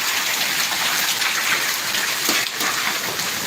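A February hailstorm with heavy rain batters the ground near wheat crops, producing a thick unbroken roar of falling drops and ice, loud and constant with a brief surge near the end.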